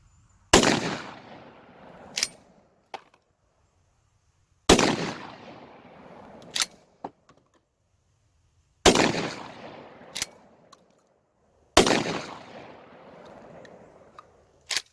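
A Black Aces Tactical Shockwave semi-auto shotgun fires Winchester Universal 7.5 shot, four loud, evenly spaced blasts with sharp echoing decays, each followed by smaller clacks of the action cycling and spent shells.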